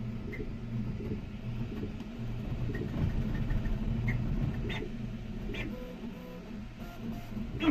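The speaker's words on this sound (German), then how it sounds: "der Drucker druckt vor sich her" A Sovol SV08 3D printer runs a test print with a steady low mechanical hum and motor whir, plus faint patter and ticking from the moving print head, fairly close with no talk.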